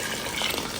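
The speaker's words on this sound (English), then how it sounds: "More water." Water pouring into a pot of Nigerian soup as it is being cooked, heard as a brief, loud, close splashing gush lasting under a second, with no talking.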